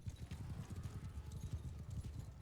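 Horses gallop in the Mount & Blade II: Bannerlord video game, a rapid, dense run of hoofbeats drumming steadily close by with no talk over them.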